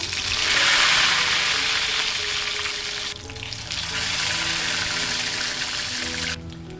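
Batter-dipped wheat flour snack frying in hot oil in a wok, a loud, dense, continuous sizzle that dips briefly midway and again near the end, with no speech.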